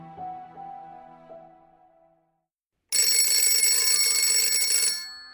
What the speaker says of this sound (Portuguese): Acordei com o telefone tocando.